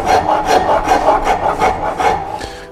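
Hand tool rasps against a carved wooden trifid foot for a Queen Anne lowboy in loud, close, rhythmic strokes, about five per second, with no voices.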